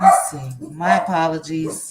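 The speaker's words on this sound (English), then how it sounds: "And sorry about the dogs." Several dogs bark in short yips and bow-wows near the microphone, interrupting someone talking indoors with a couple of sharp, close barks.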